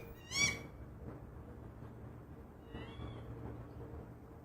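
A female northern goshawk calls once sharply and loudly, scolding her mate, then a softer, thinner call follows amid quiet outdoor background.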